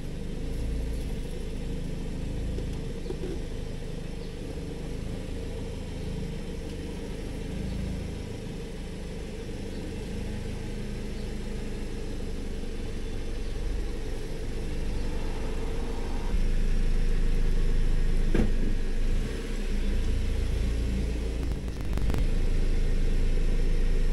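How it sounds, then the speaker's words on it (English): A car engine idles and then creeps forward into a garage, a steady low rumble that grows slightly louder and heavier toward the end, with no talk. "Now I'm gonna go see if I could get the car in."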